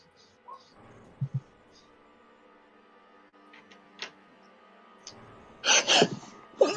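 A person sneezes close by at a tabletop game session, one loud, breathy burst near the end of an otherwise quiet room with a few small clicks and taps.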